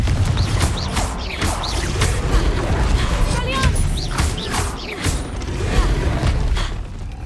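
Confringo fire spells exploding during a wizard duel in the Hogwarts Legacy video game, a run of loud booming blasts and crackling impacts over dense battle noise, with spoken spell incantations in between.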